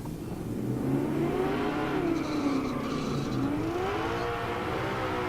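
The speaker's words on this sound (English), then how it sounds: "Floyd Parks finishes his burnout in the Chevy 2." A Chevy II drag car doing a burnout at a drag strip revs hard and steadily, its pitch rising and falling in waves, with a faint tire screech above the roar.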